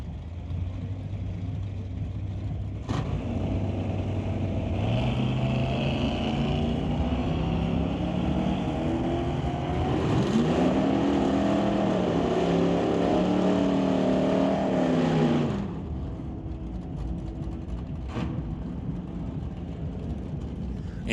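Drag race between Carson Barlow's 1970 Chevrolet C10 and Rob Monroe Jr.'s car, engines roaring loudly and rising in pitch through the run, then dropping away as the cars pass into the distance.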